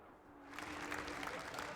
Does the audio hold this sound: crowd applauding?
yes